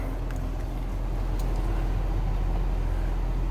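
A 2011 Ford F-350 Lariat pickup with a 6.7-liter diesel engine rumbles steadily and loudly, a close, even idle with no break or change throughout.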